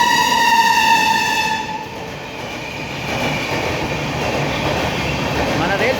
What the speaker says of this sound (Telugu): లింగంపల్లి విజయవాడ ఇంటర్సిటీ ఎక్స్ప్రెస్ ఓ రేంజ్లో ఎగరేసుకుంటూ పోతాండి ఇప్పుడు